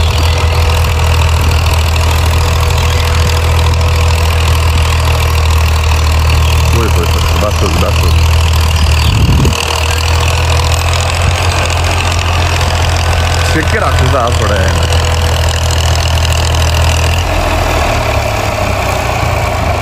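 A 1994 Ursus tractor engine idles steadily and loudly up close, a constant low throbbing rumble throughout, with a voice speaking briefly over it.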